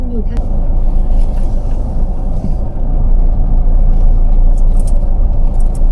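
A car drives on at a steady, loud rumble while hunting for a parking spot at a cave temple, with a voice talking over the engine throughout.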